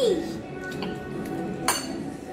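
A single bright clink of glasses touching in a toast at a casual meal of Mexican food among friends, short and close amid soft table chatter and background room noise.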